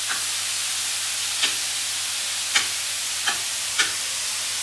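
A venison kebab sizzles while frying in a pan, making a loud, steady broadband hiss close by. A few soft clinks and scrapes of stirring sound over it, and nobody talks.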